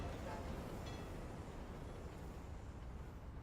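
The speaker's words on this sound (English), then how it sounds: "There goes the train." A train rumbles past on the Overpass map during a competitive Counter-Strike: Global Offensive match, a steady, loud, low roar filling the whole moment, with commentary voices faintly underneath.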